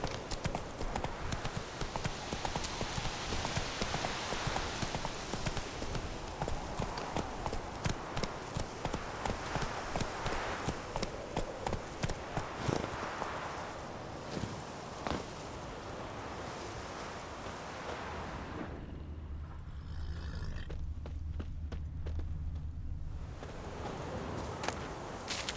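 Hooves of the horse Roach in The Witcher 3, a steady rapid clip-clop on the ground throughout with wind and ambient game noise, fading to a quieter lull near the end.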